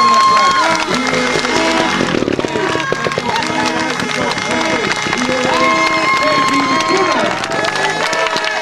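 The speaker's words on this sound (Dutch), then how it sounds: "Geef hem een geweldig applaus" A crowd at a mountain bike race applauds and cheers a rider under continuous loud announcer talk, with dense clapping and crowd noise throughout.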